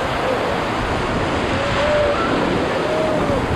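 Whitewater rapids and crashing waves on the Middle Ocoee River during a rafting trip, a steady loud roar of rushing water with wind buffeting the microphone throughout.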